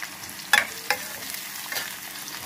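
Poha fries in a pan under a constant soft sizzle, with a few sharp scraping stirs of a spoon against the metal close by and no voices.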